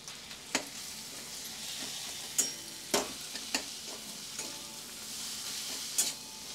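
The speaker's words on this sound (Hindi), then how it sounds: "एक दो मिनट तक हम इसे और भून लेते हैं" Roasted eggplant mashed with dried Bombay duck and tomatoes fries in a pan, making a quiet, continuous sizzle broken by several sharp spatula taps and scrapes.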